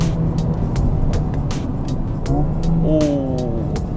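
A Mercedes-AMG A 35 engine drones inside the cabin during a downshift, with a low rumble, brief rising and falling tones, and sharp exhaust pops and crackles near the end.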